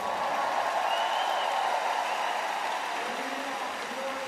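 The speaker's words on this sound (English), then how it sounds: "Another well-deserved big round of applause." Large stadium crowd applauding at a Savannah Bananas baseball game at Wrigley Field in Chicago, a broad continuous wash of clapping and cheering that holds steady, then eases slightly toward the end.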